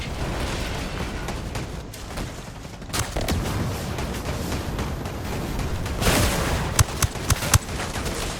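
Gunfire and mortar fire from the video game Ghost Recon Breakpoint: a steady dense rumble of shooting with sharper bursts and a few loud distinct shots near the end, no talking over it.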